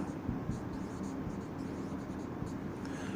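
Pen writing on paper, a close, steady scratchy rasp of short strokes continuing for a few seconds without pause.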